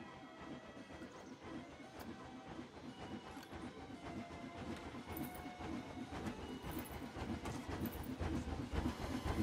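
A train pulls in within the Planet Coaster video game, its rumbling wheels and clattering cars growing steadily louder as it approaches, with a light hiss over the top.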